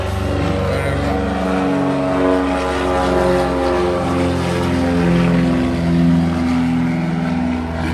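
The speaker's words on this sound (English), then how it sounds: "We just had one of the planes that are passing over here" A propeller airplane passes overhead at Simpson Bay, producing a loud, steady, close droning hum with layered engine tones that swell slightly midway and persist throughout.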